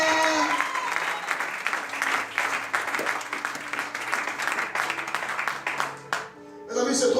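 A church congregation at a prayer rally bursts into loud, sustained applause and cheering that fills the hall and fades away near the end, with voices mixed into the clapping.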